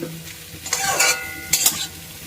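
Pre-fried potato pieces sautéed in a spiced pan, scraping stirs over a steady sizzle, with two louder bursts of stirring, no talking.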